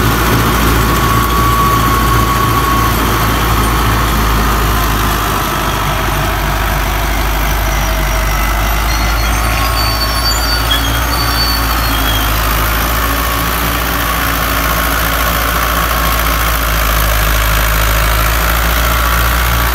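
Fiat 640 tractor, 2004 model, running a 60-cutter rotavator: a loud, steady diesel engine drone held close for the whole stretch, with a constant low throb and no talk.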